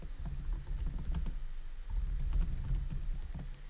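Someone types a short name on a computer keyboard while setting up a Microsoft Power Automate Desktop flow, giving a steady patter of close, quick key clicks for a few seconds with no voice.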